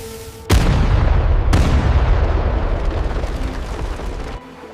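A great bronze cannon fires as a deep, heavy boom that hits suddenly, then a second blast, with a long rumbling roar that fills the space before stopping abruptly.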